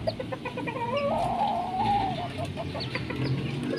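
A small bantam chicken (ayam kate) clucks and murmurs in a steady outdoor setting, with a drawn-out throaty cluck in the middle over constant background noise.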